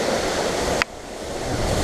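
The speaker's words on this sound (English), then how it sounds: "I can go right up to the waterfall." Waterfall in a rocky outdoor setting, a loud continuous broadband rush of falling water close to the microphone, briefly interrupted by a short dip before resuming steadily.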